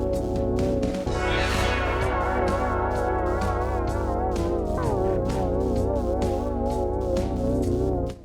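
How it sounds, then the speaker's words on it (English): Music carrying tape wow, with a slow, periodic low-frequency pitch wobble from an unevenly running tape motor. It plays loud and continuous, with no talking. "WOW causes a periodic low frequency movement, which usually happens when the tape motor isn't playing back at a constant speed"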